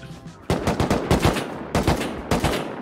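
An automated turret in the video game Rust fires rapid bursts of loud gunfire, several volleys of sharp cracks in quick succession with short gaps between them.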